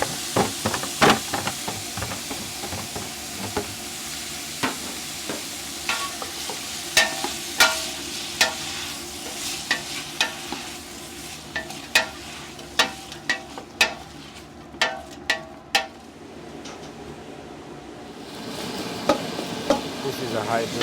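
Carrots, celery, onions and garlic frying in olive oil over a high-BTU burner for turkey stock, a steady sizzle broken by repeated sharp clinks and scrapes of stirring, close and fairly loud with no talk.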